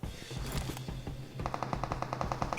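Rapid automatic gunfire in the mobile battle royale game PUBG Mobile, bursts of sharp repeated shots crackling close and loud, the second burst in a tight rhythmic stream.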